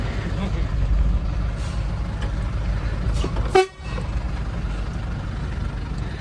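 A diesel truck on a Bengaluru–Hyderabad run pulls away with a constant low engine rumble and road noise. A short, loud horn toot sounds partway through.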